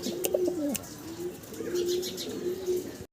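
Fancy pigeons coo in a steady series of low, rolling calls close by, with a few soft chirps and faint wing sounds scattered through, and no talking.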